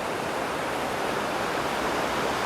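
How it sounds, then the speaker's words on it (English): Small waterfall only a couple of feet high on a shaded, cool river walk in Zion National Park, Utah, pouring as a steady, close, unbroken rush of white water with no voices. "Here is a nice little waterfall, just a couple feet high,"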